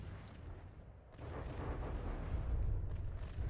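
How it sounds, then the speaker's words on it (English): Missiles fired underwater in From the Depths, heard as a dull, muffled rumbling rush that swells and holds, with no sharp bangs and no talk. "Firing missiles underwater."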